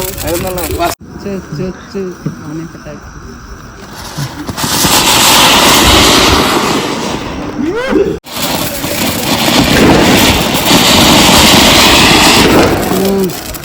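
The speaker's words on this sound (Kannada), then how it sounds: "ಎಲ್ಲ ಪಟಾಕಿ ಹೊಡೆದಾಕ್ತಾನೆ" Dense crackling bursts of Diwali firecrackers fill the air, loud and sustained in two long waves, with people talking underneath.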